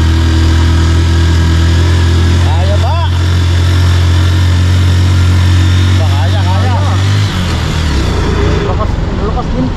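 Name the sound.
Honda TMX motorcycle engine climbing uphill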